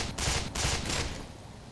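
Gunfire in the video game Black Mesa: two or three short bursts of shots in close succession, fairly loud, then a quieter tail with no talking.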